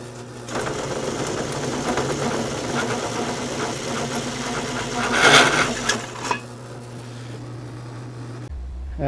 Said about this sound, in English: Good stable machine. 300 RPMs.